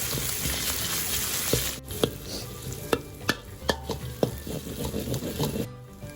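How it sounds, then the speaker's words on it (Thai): Pounded black pepper, coriander root, garlic and shallots stir-fry in hot oil with a steady crackling sizzle, punctuated by sharp spatula scrapes and clanks against the pan at irregular intervals. "ใส่ลงไปผัดให้หอมก่อน"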